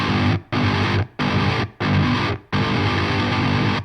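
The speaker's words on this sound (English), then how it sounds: "So with argent compressor it sounds like this" Distorted heavy guitar riff processed through the Argent compressor plugin, loud and dense, with chugging chords cut by short rhythmic stops before ringing out steadily at the end.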